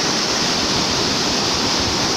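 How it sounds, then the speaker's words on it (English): Blue Waterfall at the Wli waterfalls pours in a loud, steady, unbroken roar of rushing water, heard close and alone with no other sounds. "This is Blue Waterfall."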